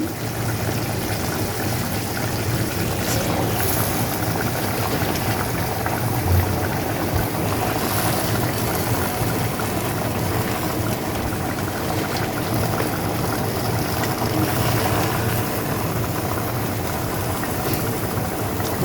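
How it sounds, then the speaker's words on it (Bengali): Malabar spinach leaves cook in a pot with dried lotia fish, giving a steady bubbling, hissing simmer close by that stays even throughout, with no talking. "এখন পুঁই শাকগুলো দিয়ে দিচ্ছি"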